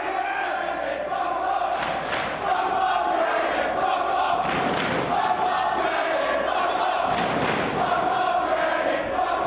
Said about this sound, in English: You hear the crowd firmly behind Bryan Danielson in this one